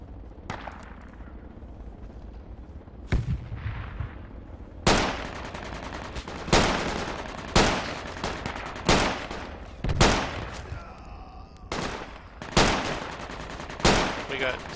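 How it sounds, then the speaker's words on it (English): Gunfire in the Project Reality military shooter game, a series of loud sharp shots and bursts fired at irregular intervals, some near and some farther off, with heavier booming blasts mixed in and no talk. "Snipers firing from south on old farm."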